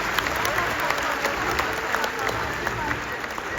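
A ceremony audience in Armenia at a national young women's pageant breaks into sustained applause, dense overlapping claps held at an even, fairly loud level from start to finish, with a faint murmur of the crowd underneath.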